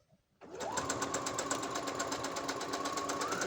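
A sewing machine stitches through elastic on a lace wristlet, a steady rapid whir of needle strokes that starts after a brief quiet moment and runs evenly, close and clear.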